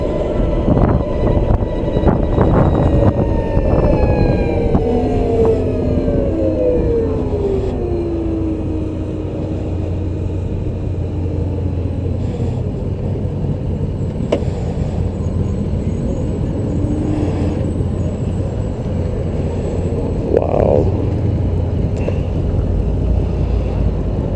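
A Harley-Davidson LiveWire electric motorcycle accelerates on the road, its rising electric whine sweeping upward over loud, steady wind and road rush throughout.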